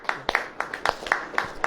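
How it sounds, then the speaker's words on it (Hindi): A congregation at a church sermon claps in unison, with about eight sharp, evenly spaced claps in quick, steady rhythm, fairly close. "ताली बजाओ।"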